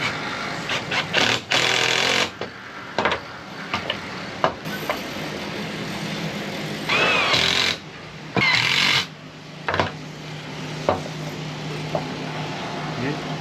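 Cordless power tool driving screws into fittings on a rebuilt sailboat, several short loud whirring bursts with gaps between them, close up, with handling clatter and some speech in between.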